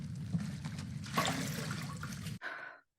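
A toilet flushes in a steady rushing surge of water for about two and a half seconds, then cuts off into a brief trickle and drip as the bowl refills.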